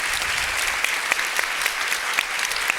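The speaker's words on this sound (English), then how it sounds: "And a warm applause." An audience at a panel discussion on algorithmic governance applauds, a dense, even clapping from a room full of people that carries on steadily throughout.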